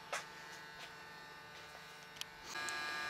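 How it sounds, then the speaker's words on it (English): A DLP rear projection TV's color wheel gives a steady, faint electrical buzz that runs under the whole stretch, with a few soft clicks and knocks, and the buzz grows a little louder toward the end. "But as for the noise, I definitely think it's the color wheel"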